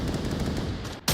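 Fast automatic gunfire from the VR shooter Onward in a competitive match, a loud continuous rattle of rounds that cuts off just before a final sharp crack.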